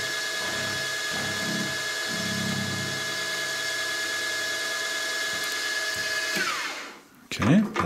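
A milling machine drills a hole in a small metal block, part of making sine bars, with a steady, loud mechanical whine and high tonal hum that runs continuously, then spins down near the end, followed by a few short knocks.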